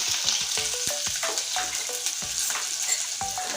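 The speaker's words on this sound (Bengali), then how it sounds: "পেঁয়াজটা লাল করে ভেজে নেব" Chopped onion sizzles in hot oil seasoned with cumin seeds in a pan for egg bora kalia, a loud, close, continuous frying hiss broken by repeated sharp clacks and scrapes of a spatula stirring.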